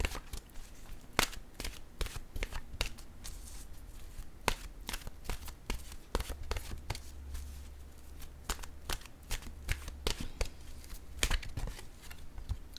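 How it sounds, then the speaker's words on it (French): Oracle cards from an intuitive-soul deck are handled and shuffled up close, producing a long run of sharp, irregular papery clicks and flicks over a quiet room background. "Je vais piger une carte maintenant de mon oracle de l'âme intuitive."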